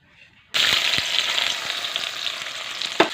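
Onions and chillies hit hot mustard oil with a sudden loud sizzle after a short quiet lead-in, settling into steady crackling frying with a few sharp pops and a scrape near the end.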